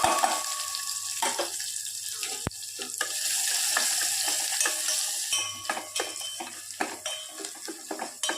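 Green chillies and curry leaves sizzle in hot oil in a pan for a beetroot poriyal, a steady close frying hiss broken by sharp clatters of stirring and spoon taps.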